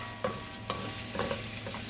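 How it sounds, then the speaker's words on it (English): Ham sizzles and fries in a pan as the base for rice with pigeon peas, a steady crackle broken by a few stirring scrapes. "I love that sizzling."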